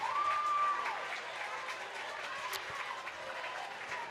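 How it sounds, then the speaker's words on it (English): Crowd cheering and applauding at a Kansas Class 4A high school state baseball tournament game, a steady distant wash of clapping and crowd noise with a faint whistle near the start. "Mustang crowd getting into it"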